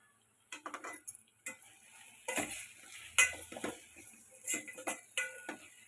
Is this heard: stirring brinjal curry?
yes